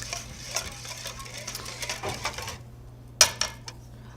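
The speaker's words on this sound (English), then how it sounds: "we're just going to whisk this just to combine" Muffin batter of milk and vanilla is whisked in a bowl with quick rhythmic scraping strokes, then stops, followed by a sharp clink of utensil on bowl and a softer tap.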